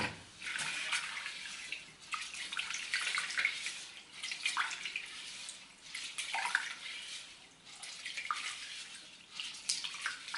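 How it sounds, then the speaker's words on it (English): Rice is rinsed by hand in water until it runs clear, with repeated close swishing and splashing in uneven pulses and trickling water between them. "But I clean it until the water sort of runs clear."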